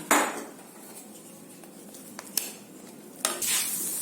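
Potato cheese garlic bread frying in oil in a pan, a soft sizzle punctuated by a few sharp clinks and scrapes of a utensil against the pan, with a louder burst of sizzling near the end.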